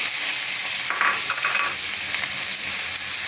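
Onion, green chili and tomato frying in oil in a home kitchen, giving a loud, continuous hiss and sizzle with some brief stirring scrapes partway through and no speech.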